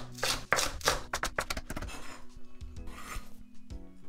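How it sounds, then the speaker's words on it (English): A knife cuts scallions on a wooden board in a home kitchen, giving a quick run of close, crisp chopping strokes followed by softer, scattered rasping cuts. "I'm gonna cut into medium-sized pieces like this"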